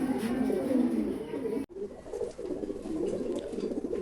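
Large Lahore pigeons on a farm coo in low, soft repeated burbles, close and steady, briefly cut off and then resuming, with a voice faintly in the background.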